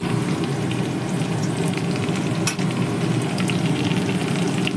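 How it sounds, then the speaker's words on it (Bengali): Onions frying in a pan for fish curry sizzle steadily and loudly close up, a continuous crackling hiss with a brief stir partway through. "পেঁয়াজ দিয়ে একটু লাল লাল করে ভেজে নিতে হবে।"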